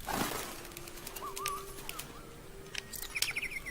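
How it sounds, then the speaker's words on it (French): Android songbirds in the video game Detroit: Become Human, faint scattered chirps and short whistled trills over a quiet backdrop, with a brief flutter near the start. "Ah mais c'est des petits oiseaux androïdes."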